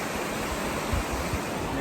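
A Georgia waterfall pours in a steady, dense broadband roar that fills the whole clip, loud and continuous with faint low thumps beneath.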